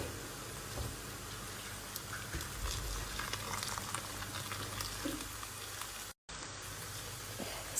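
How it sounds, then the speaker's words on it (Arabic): Water pouring into a cooking pot of chicken for chicken machboos, a dense steady bubbling and rushing wash of liquid that fills the scene, loud and close, with a brief dropout near the end and no talking. "يلا نزيد الماي."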